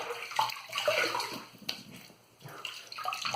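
Water runs from a tap as a shaving razor is rinsed under it, a close, moderately quiet rushing and splashing stream that briefly thins out before picking up again.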